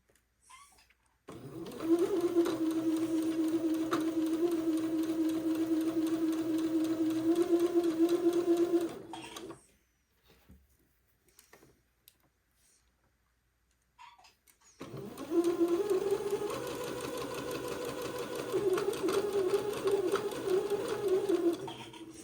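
A sewing machine stitches the flared seams of a garment in two steady, whirring runs separated by a few quiet seconds, close and loud with no talking.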